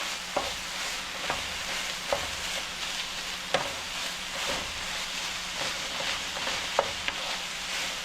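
Ground turkey is mixed with ginger and garlic in a hot pan, giving a steady low sizzle broken by sharp scrapes and clicks of the spoon against the pan, no voice.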